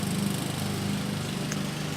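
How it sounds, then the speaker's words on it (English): A neighbor's lawn mower runs continuously, cutting grass, a steady droning engine heard from a middle distance in an outdoor garden. "My neighbor's mowing his grass."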